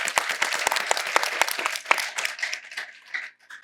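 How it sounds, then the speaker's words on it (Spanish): Applause from an audience at a conference on protected coastal and marine areas, a burst of sharp close claps that thins out and fades after a few seconds. "Un aplauso, por favor."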